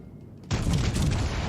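Heavy naval turret guns from World of Warships Legends, quiet lull broken by a sudden loud boom that rolls into a sustained thundering wash of fire and rumble.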